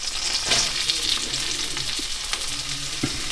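Leeks sizzling as they fry in a pan of melted butter, a steady crackling hiss with a few soft stirring clinks, close and continuous for the whole stretch with no talking.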